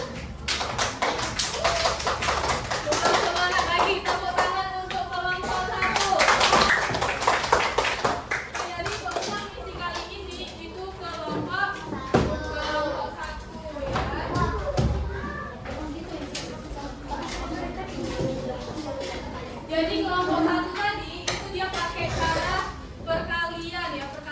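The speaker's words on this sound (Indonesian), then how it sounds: "tepuk tangan dulu untuk kelompok 1" A classroom breaks into a group hand-clapping burst for a team of pupils, rhythmic claps rising then fading, with children's voices and teacher talk throughout.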